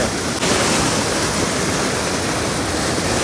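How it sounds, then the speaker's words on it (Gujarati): The Narmada waterfall pours down with a loud, steady roar of rushing water, close and unbroken, with no voices over it. "નર્મદા વોટરફોલ ખતરનાક પાણી પડે છે"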